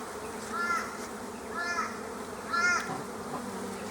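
Honey bees buzz around an opened hive during super removal, a soft steady drone with three brief, louder buzzing passes as single bees fly close by.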